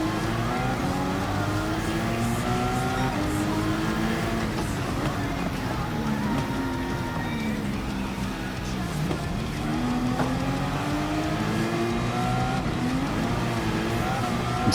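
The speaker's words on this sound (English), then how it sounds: "I'm spinning the tires a little bit there, trying to get it out." A race car in the Gran Turismo video game, racing in France, whines along with its engine pitch rising and falling as the tires spin and squeal while it struggles for grip, a steady, close, continuous drone.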